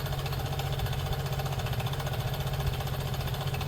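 A Piaggio Liberty scooter's small engine runs steadily, with a fast rough putter and a mechanical clatter at an even idle, close by, and no talking.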